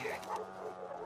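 Dog in The Last of Us Part 2 giving a soft, brief whimpering yip, faint and low in level with quiet background ambience.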